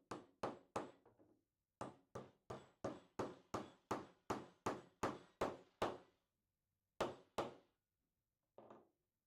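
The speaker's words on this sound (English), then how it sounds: "and then you just hammer it in until it's secure inside." Steady, sharp hammer blows drive a metal pin into a DrillAmerica DA1903 drill rifle, about twenty evenly spaced hits with a short pause partway through, close and loud with no talking.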